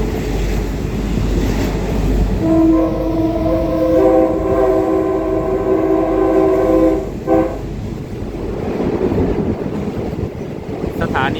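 A train on the Wongwian Yai to Bang Bon railway line rumbles along the tracks, heard up close. A long horn blast sounds in the middle over the steady roar of the wheels.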